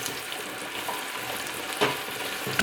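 Carrots and onions frying in two spoonfuls of butter for yellow lentil soup give a soft, steady sizzle, fairly faint, with a few brief stirring clatters near the end.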